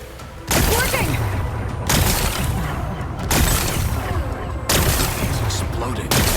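Heavy in-game explosions from Horizon Forbidden West blast away rocks in four loud, booming bursts, each a couple of seconds long, separated by brief lulls and layered with rumbling debris.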